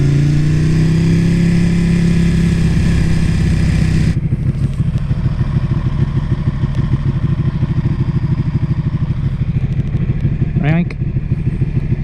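Ducati Panigale motorcycle on a test ride along a bike path: a steady, close engine drone with a rapid pulsing exhaust beat after an initial louder rev, running continuously throughout.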